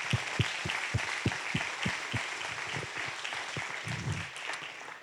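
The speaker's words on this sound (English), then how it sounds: "So please give yourselves a big round of applause." Scattered clapping from a small crowd, individual claps distinct and uneven, continuing steadily for several seconds before tapering off.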